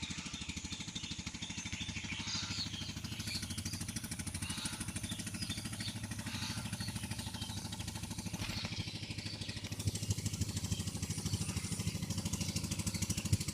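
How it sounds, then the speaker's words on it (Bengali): A motor trawler boat chugging along a river while hauling soil, its engine running in a steady, loud, continuous throb throughout with no voices. "নদীতে এখনও টলার চলে রাস্তায় মাটি আনি এই নৌকাটা যে মাটিগুলো আনছে"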